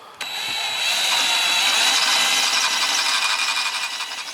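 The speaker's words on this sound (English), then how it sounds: "I've got to cut off that little piece of track there" A piece of sailboat mast track being cut off, a close and steady rasping cutting sound that starts abruptly and runs without a break for about four seconds.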